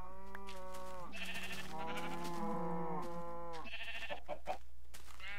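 Several Minecraft sheep bleat in the video game, overlapping wavering cries one after another against a steady background hum, fairly loud and close with no speech.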